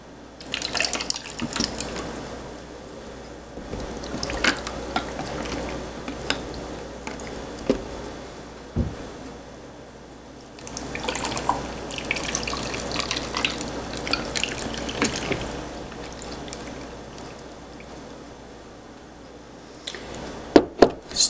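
Water poured from above over ice cubes mixed with salt in a container, a steady trickling and splashing in two longer pours with quieter dripping between them and a few sharp clinks near the end.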